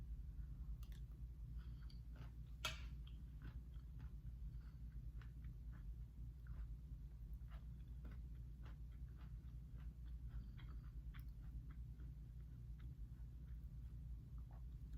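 Close, quiet chewing of oatmeal with crunchy carrots, blueberries and cauliflower, with irregular soft crunches over a steady low background hum.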